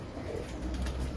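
A pigeon coos in a low, throaty, continuous murmur, close and fairly loud, over a busy background.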